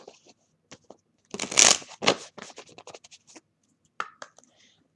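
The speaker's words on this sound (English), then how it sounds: "That takes a little bit of shuffling." Oracle cards are shuffled by hand in quick papery bursts, close and crisp, with a louder flurry near the start and scattered short riffles and rustles afterward, no talking.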